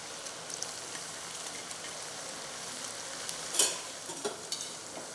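Wheat biscuit dough pieces frying in hot oil, giving a steady close sizzle and bubbling hiss throughout, with a brief louder spatter near the end and no one talking.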